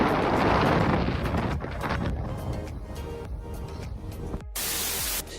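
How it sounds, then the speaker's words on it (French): Wind rushes and buffets against the microphone outdoors beside a beach, a steady broadband roar with gusty swells, then a brief drop before a loud hiss resumes. "il y a du vent"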